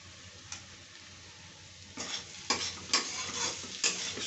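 Potato and parwal sabji with masala stirred in a pan, giving several scraping, sizzling strokes over a steady frying hiss, loudest in the second half, with no talking.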